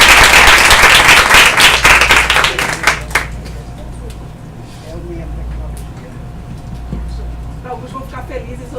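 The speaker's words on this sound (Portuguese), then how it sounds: "eu peço uma salva de palmas ao professor Luciano Oliveira" Audience applause for Professor Luciano Oliveira at a lecture, dense clapping for about three seconds that then stops abruptly, leaving quiet room noise with faint stirring.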